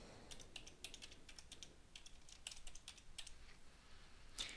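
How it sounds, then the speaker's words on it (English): Quiet typing on a computer keyboard, with a scatter of light, irregular key clicks heard close and faint with no talk. "and then I just type in my URL"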